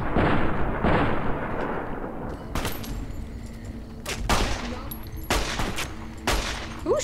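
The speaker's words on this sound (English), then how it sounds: "Who's shooting at me?" Gunfire in the video game Fallout: New Vegas, loud repeated bursts and sharp shots firing at irregular intervals over a rumbling background, close and dense throughout.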